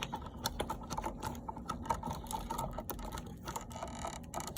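Screwdriver tightening a wire terminal screw on a smart light switch, a close series of small clicking, ratcheting ticks in uneven bursts with no talk.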